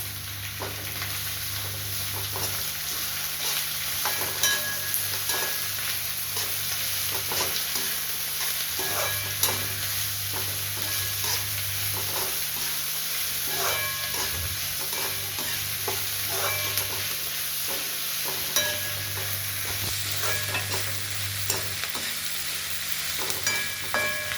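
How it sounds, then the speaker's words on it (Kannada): Vegetables for masala upma sizzle steadily in hot oil, a dense continuous crackle close by, with a steady low hum beneath and occasional scrapes of stirring, no voices. "ಚೆನ್ನಾಗಿ ಫ್ರೈ ಮಾಡ್ಕೋಬೇಕು ಇದನ್ನು ಅದು ಎಣ್ಣೆ ಬಿಟ್ಕೋಬೇಕದು"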